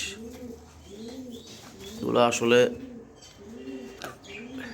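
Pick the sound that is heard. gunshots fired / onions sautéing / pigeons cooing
pigeons cooing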